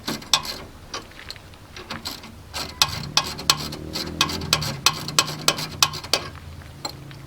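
A hand ratchet clicks rapidly in irregular runs as a 12mm brake line retaining bolt is undone on a Nissan 350Z, close and distinct with faint background hum.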